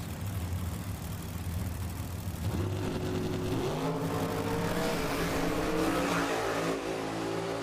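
Top dragsters race in the final round at the Pep Boys Nationals drag race, a loud continuous engine roar that climbs in pitch as they accelerate, with no talking.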